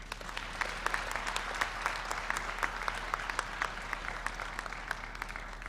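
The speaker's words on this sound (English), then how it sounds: "Give one more round of applause" Sustained applause from an audience at a Shrimad Bhagwat Puran Katha religious gathering, dense steady clapping filling the whole stretch at an even level, no voices standing out.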